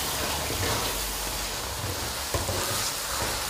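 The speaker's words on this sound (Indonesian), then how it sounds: "Kalau minyaknya sudah panas, kita tumis bumbunya" Rendang spice paste sautés in hot oil, giving a steady, dense close-up sizzle that stays even throughout with only a faint click partway through.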